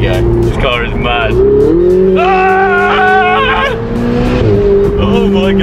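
A Ferrari sports car accelerates hard, its engine note climbing in steady harmonic sweeps as it revs up and shifts, loud and close, with excited voices talking over it.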